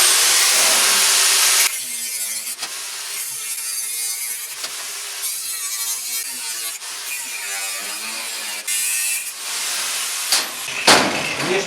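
An angle grinder cuts through a bracer workpiece in several bursts, a harsh high whine with rising and falling pitch as the disc loads and frees, separated by short pauses, loud and close.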